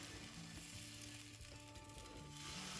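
Dosa batter sizzles on a hot dosa pan with no oil, a faint, even crackling hiss that carries on steadily with no voices.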